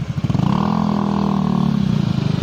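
A motorcycle engine revs loudly nearby, rising into a sustained droning roar and then falling back to a rough idle, with faint talking mixed beneath the noise.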